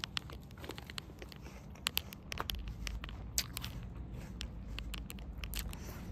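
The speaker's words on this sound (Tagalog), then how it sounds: "Ang gusto ko sa mansanas yung malutong, tapos na-juicy siya." Someone bites and chews a crisp, juicy apple close to the mic, a string of sharp crunches and wet crackles spread across a quiet background with no talk.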